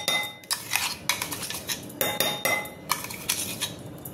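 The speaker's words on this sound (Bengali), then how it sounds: "দেখো পেস্ট করে নিয়েছি, এটা আমি বাটিতে ঢেলে নেব।" A spoon scrapes and clinks against a bowl and blender jar as thick carrot paste for malpua is poured and scooped out, in irregular bursts of close metallic clatter.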